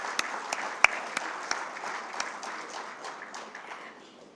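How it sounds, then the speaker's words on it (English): Conference audience at an economic dialogue applauds: scattered claps with a few sharp, close hand claps over a soft, thinning patter that slowly dies away over about four seconds. "Ladies and gentlemen, big round of applause."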